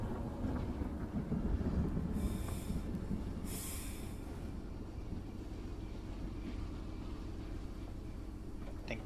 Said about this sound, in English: I either hear him or I'm hearing your train.